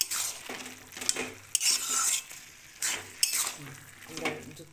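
Carrot halwa is stirred in a pan, a spoon scraping and clinking against metal in uneven strokes over a soft sizzle, close and quiet, with no talk.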